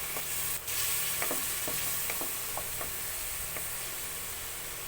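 Aromatics sizzle steadily in a frying pan for a tilapia dish, a constant close hiss broken by several light scrapes and clicks of stirring, with no talk.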